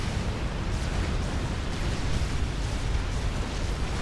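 Support factories being destroyed in the real-time strategy game Forged Alliance, a dense, steady rumble of overlapping explosions and low booms filling the whole stretch with no letup.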